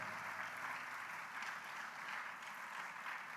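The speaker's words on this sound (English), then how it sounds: "Shall we please give them a loud round of applause once again?" Audience applause fills an official opening ceremony, a steady, dense patter of many hands clapping continuously without a break.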